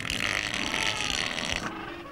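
A large Antarctic animal, a moulting seal lying on the ground, lets out a long, loud, rasping flatulent blast lasting nearly two seconds, close up and with no talk over it.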